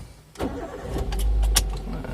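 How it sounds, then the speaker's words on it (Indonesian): A car engine cranks and catches after a brief quiet moment, then settles into a steady, close running hum. "Suara mesin lumayan halus ya Mas."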